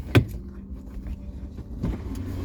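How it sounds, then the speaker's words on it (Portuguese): A car's back door is worked open, giving a sharp close thunk of the latch, then a softer clunk about two seconds later, over a low background rumble. "Deixa eu ver se eu consigo abrir a porta de trás."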